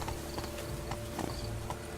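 Horse hooves clip-clopping in The Witcher 3, a steady trotting rhythm of hoofbeats, close and loud over a continuous game ambience, with no talk.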